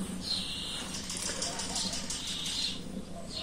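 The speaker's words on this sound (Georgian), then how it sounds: "მაგარი ჩიტების ხო გესმის ჩიტების ხმა" Birds sing outdoors in the morning, with repeated high chirping phrases carrying at moderate distance over a low ambient hum, while a person speaks softly.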